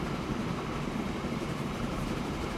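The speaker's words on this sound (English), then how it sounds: "Got some great sound effects on the trains." Steady rumbling train noise from the video game Train Fever, a continuous low rolling roar of rail cars at constant loudness with no talking.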